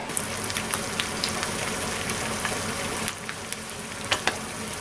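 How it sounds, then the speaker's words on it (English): An egg frying in a knob of butter, a steady close sizzle with scattered small pops and crackles throughout, no voices. "I've actually fried off an egg here"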